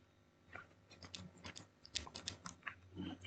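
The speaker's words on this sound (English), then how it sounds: "These are brown switches." Fingers type on a mechanical keyboard fitted with Outemu brown switches, a quick, uneven run of close, crisp key clicks and clacks, quiet and alone without speech.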